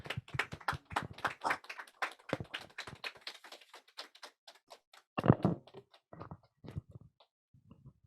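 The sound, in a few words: audience applause welcoming a speaker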